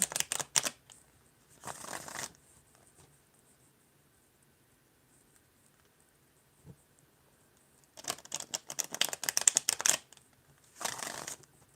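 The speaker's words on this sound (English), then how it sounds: "Just while shuffling, I'm seeing really good cards" A deck of playing cards being shuffled in several separate bursts of quick riffling and snapping, close and crisp, with near silence between the shuffles.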